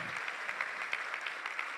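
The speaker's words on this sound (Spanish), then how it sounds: "Y demos un aplauso a Dios porque lo sigue haciendo hasta ahora." Applause from a church audience, a steady even patter of many hands clapping at moderate level throughout, with no voices over it.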